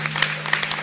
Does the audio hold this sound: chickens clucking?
no